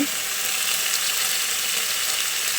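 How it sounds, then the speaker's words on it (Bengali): Mixed vegetables sautéing with ground spice paste in a pan for a Bengali pui metuli dish, a dense, even hiss of frying that stays steady and fairly loud with no voices. "বাটা মশলাটা দিয়ে সবজির সঙ্গে খুব ভালো করে কষিয়ে নিয়েছি"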